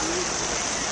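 Steady rain hisses over an Occupy Wall Street protest camp, a dense, even wash of falling water close by that runs unbroken for the whole moment, with no voices above it.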